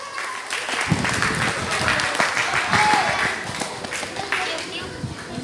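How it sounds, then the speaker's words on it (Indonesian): Audience at a gathering with Papuan Islamic boarding-school students breaks into applause, starting abruptly after a brief quiet moment and continuing as a dense, sustained clatter of many hands, with some voices and children's chatter mixed in. "Ya, tepuk tangan."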